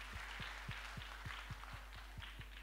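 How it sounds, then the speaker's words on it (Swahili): A church congregation at a Kikuyu Sunday service claps hands together in praise of God, a steady, evenly paced run of claps heard from a distance under a constant low hum. "Tupigie Mungu wetu makofi tena."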